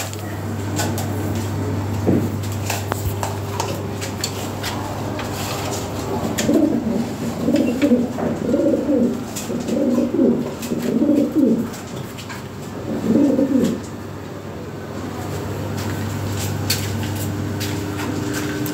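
Big European Lahore pigeons coo in low, throaty bursts through the middle of the stretch, close by, over a steady low background hum with faint rustling.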